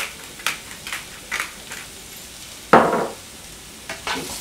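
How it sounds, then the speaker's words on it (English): Cherry tomatoes sizzle gently in a pan while a utensil stirs and scrapes them in short, irregular bursts, with one louder scrape midway. "But now you can add the cherry tomatoes and let them cook through a bit."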